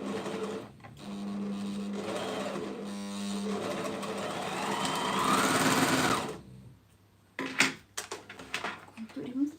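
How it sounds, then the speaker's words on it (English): An overlocker sewing machine running slowly, a close mechanical whirring and rapid stitching rattle in bursts over several seconds, then stopping before some handling clatter and thread noises; a voice is faintly present. "Elevate the foot of the overlocker and start to sew very slowly"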